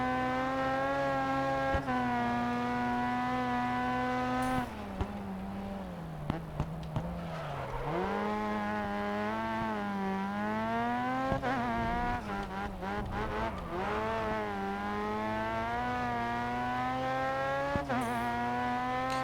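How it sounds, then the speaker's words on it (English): A rotary-engine race car in Grid Autosport screams with a high, buzzing, mosquito-like whine, its pitch rising and falling through gear changes and corners, loud and continuous the whole time. "Car sounds like a mosquito. That's that good old rotary."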